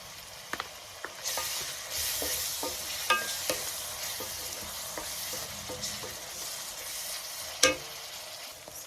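Seasoned green rice being stirred in a single pot with ground black pepper, a soft continuous sizzle with scattered scraping clicks of the spoon against the pot, close and fairly quiet.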